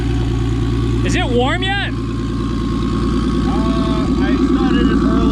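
A BMW turbo engine in a Z kart idles steadily and loudly close by, a constant low rumble throughout, with a short exchange of talk over it partway through.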